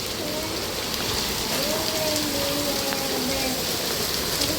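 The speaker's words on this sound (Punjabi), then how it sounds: "ਮੀਂਹ ਵੀ ਬੜਾ ਤੇਜ਼ ਆਈ ਜਾਂਦਾ ਤੇ ਟੇਢੀ ਬਾਰਿਸ਼" Heavy slanting rain pours down as a loud, continuous, even hiss of drops hitting surfaces nearby, with no pauses throughout.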